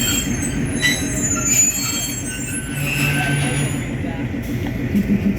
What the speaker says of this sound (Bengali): পাবনা রেল স্টেশন থেকে রাজার এক্সপ্রেসটি পাবনা রেল স্টেশন অতিক্রম করছে